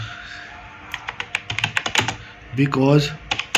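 Irregular clicking keystrokes on a computer keyboard, close and moderately loud, with someone speaking in Hindi over and between the taps.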